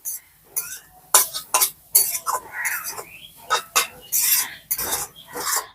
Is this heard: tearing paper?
no